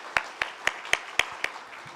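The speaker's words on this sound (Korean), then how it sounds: "박수로 환영해 주시기 바랍니다" In a church service welcoming visitors, about six sharp, evenly spaced claps sound faintly, like a small, sparse round of applause.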